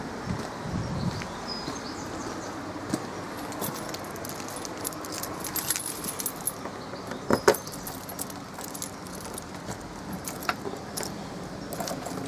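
Keys jangle in the side locker of a caravan while a motor mover fitted with electric rollers is set up, with small metallic clinks and rattles scattered through steady outdoor background noise.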